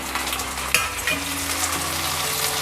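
Two medium tomatoes cook with onions in a pan for sambar, giving a close, even sizzle with a single sharp utensil knock early on and no speech.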